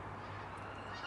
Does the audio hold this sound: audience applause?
no